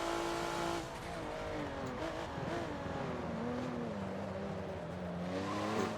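Race car engine from the Forza video game on the Rio National reverse track, droning loudly and steadily throughout with rising and falling pitch as the car shifts and accelerates, plus some tire noise.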